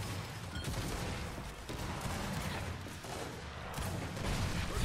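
Dense, sustained gunfire in a Gears 5 ranked Control match, with crackling bursts layered over mechanical clatter and a constant low rumble that carries through the whole stretch.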